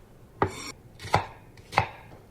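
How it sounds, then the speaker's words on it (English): Three sharp knife chops through an onion on a cutting board, evenly spaced about two-thirds of a second apart, close and crisp with quiet pauses between. "Now slice it vertically, chopping."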